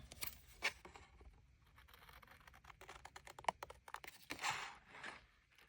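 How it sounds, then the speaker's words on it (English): Small scissors fussy cut a paper star for a handmade card, with a series of quiet, close snips and crisp paper scratches in an irregular rhythm. "we're going to fussy cut the star"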